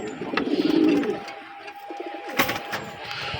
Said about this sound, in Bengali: আজকে আমার এই যে কবুতরগুলো একটু দুষ্টাই বেশি করতেছে